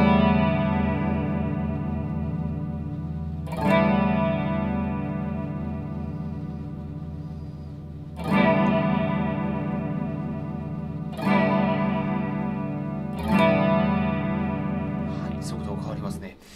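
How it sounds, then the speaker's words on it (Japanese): Guitar run through a chorus effect set to deep depth and fast rate, giving a wobbling, warbling tone; sustained notes and chords are restruck several times over about sixteen seconds with no talking. "デプスをしっかりかけてあげて、レイトを上げると、こうブヨンブヨンって音になりますね。"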